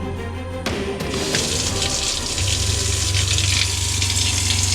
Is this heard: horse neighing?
no